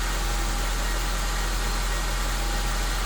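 A 2007-2011 Honda CR-V engine idles after a remote start, a steady, loud, even hum with broad noise and no change across the few seconds.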